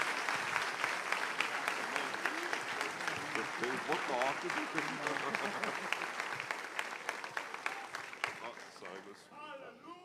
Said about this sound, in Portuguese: Podem aplaudir mais forte se você conseguir